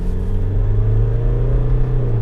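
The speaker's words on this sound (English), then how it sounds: "if I come to a stop here and put my foot down to the floor" Hyundai Terracan SUV with a 2.9-litre turbo engine and automatic gearbox pulling hard from a standstill, a loud, steady low engine drone heard from inside the cabin, with no talking.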